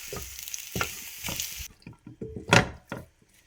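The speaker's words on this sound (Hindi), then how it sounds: "इसको मिक्स कर लेते हैं।" Spoon stirring black pepper, cumin powder and salt into a chicken and vegetable spring roll filling, with soft scraping and squishing strokes and a brief light sizzle, close by and fairly quiet.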